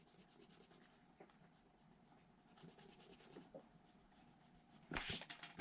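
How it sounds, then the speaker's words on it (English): Pencil marks being erased on drawing paper, a faint continuous rubbing scratch with a brief louder burst of friction near the end, close and alone. "And let me erase some of this."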